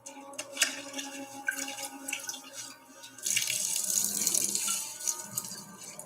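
Water pours and splashes in a fantasy TV drama scene, light trickles and drips at first and then a louder, steady gush for a couple of seconds before easing off, with no talking over it.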